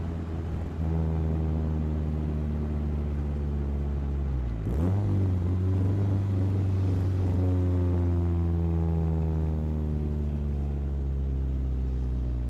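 A Chevrolet Spark engine idles along at about 1000 RPM in second gear, a steady low, throaty drone from inside the car that briefly dips midway before settling back into the same even hum.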